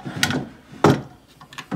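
Wooden dresser drawers in a bedroom sliding open and shut, a few short scraping thumps at close range, spaced unevenly over a couple of seconds in a quiet room.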